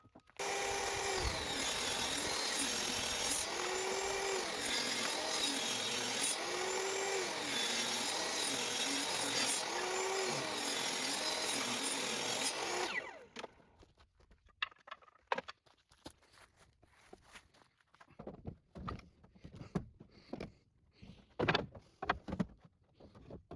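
A power saw runs loud and steady for about thirteen seconds, cutting a scrap piece of wood held against the fence, its pitch dipping in repeated swells as the blade works through; then it stops, leaving scattered faint knocks and handling noises.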